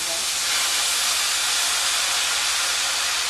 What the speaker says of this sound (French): je vais déglacer ma farce avec un peu de bourbon